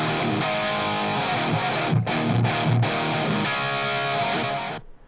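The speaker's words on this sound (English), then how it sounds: "Now just listen to the delay." An electric guitar plays through a Tonex amp-modeling setup with delay engaged and reverb off. Sustained, gritty distorted chords ring out alone, with repeating echo tails and a few brief breaks, then fade out at the end.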